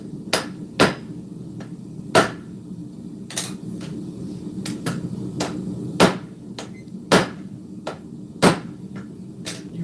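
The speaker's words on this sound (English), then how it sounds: "Switch back to the other hammer and just kind of take this bow out." A blacksmith's hammer strikes hot steel while forging a cleaver: about a dozen sharp, ringing blows at an irregular pace, close and loud over a low background hum.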